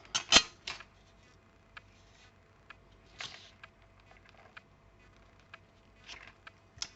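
Scalpel blade slicing through a paper greeting card, a few crisp short scrapes and ticks, one louder cut near the start, then sparse quiet clicks in a still room.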